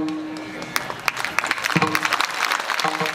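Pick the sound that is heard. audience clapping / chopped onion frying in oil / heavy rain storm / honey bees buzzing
audience clapping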